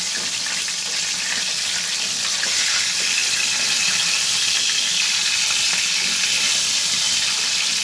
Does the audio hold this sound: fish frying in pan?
yes